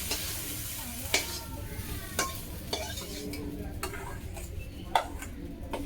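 Vegetables fry and sizzle in oil in a covered kadai, a soft continuous sizzle punctuated by sharp clinks and scrapes of a spoon stirring the pan every second or so.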